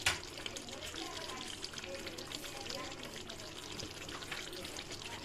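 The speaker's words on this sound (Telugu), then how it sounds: "మిక్సీ గిన్నెలోని వాటర్ వేసి కొంచెం వేద్దాం." Water from a mixer jar is poured into a simmering chicken curry, making a soft, continuous splashing trickle under low background noise.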